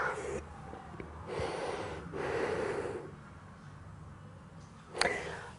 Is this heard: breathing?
yes